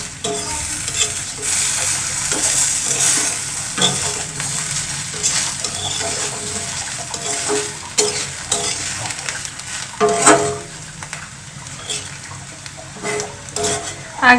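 Fish pieces with potatoes sizzle and crackle in oil in a pan, stirred throughout, a dense steady frying hiss broken by scraping and knocking of the spatula.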